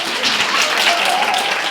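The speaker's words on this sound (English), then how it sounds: "Clap for yourselves." Audience applause at the Regen Pop Hope 2024 event: a steady, dense wash of many hands clapping throughout, fairly loud and continuous with no pauses.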